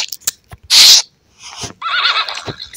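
A horse in the video game Wild Horse Islands gives a loud, short neigh, then a longer wavering whinny after a brief pause, with no talk over it.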